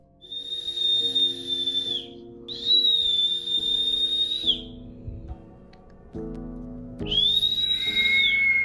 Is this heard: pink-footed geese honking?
no